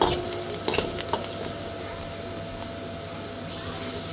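Cabbage manchurian gravy with sauce and red chilli being stirred in a hot pan, giving a steady frying sizzle with a few scraping strokes near the start and a brighter hiss rising near the end.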